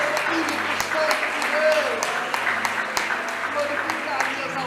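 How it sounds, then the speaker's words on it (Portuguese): A congregation claps during a worship service at a Baptist church in Miraí, producing sustained, dense applause throughout with voices mixed in. "Você pode aplaudir a esse Deus enquanto eu bebo mais uma água."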